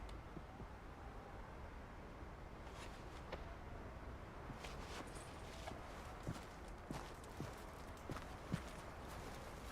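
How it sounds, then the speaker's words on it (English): Horse hooves clip-clop over the ground in a ranch roleplay video game, a faint, irregular series of soft thuds spread across the stretch against a quiet background hiss. "Sounds like I hear another horse."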